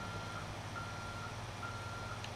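Truck reversing beeps in the video game GTA, a steady string of evenly spaced electronic beeps over the constant low drone of an idling heavy truck engine, with no talk.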